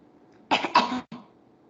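A toddler under a year old gives a fake, imitated cough in a few short bursts, close and moderately loud with quiet around it.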